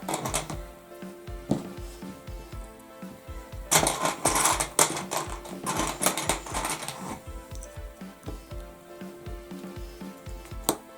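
A sewing machine backstitches forward and backward along the edge of a fabric box, making a close, rhythmic clattering with repeated short bursts and a louder stretch in the middle.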